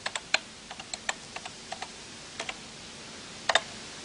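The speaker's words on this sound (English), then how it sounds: "So when you come to play the tape into your computer, you'll need to type star tape 3, like this." A command is typed on a computer keyboard, heard as a dozen or so crisp, close key clicks in an irregular rhythm, with a short double tap near the end.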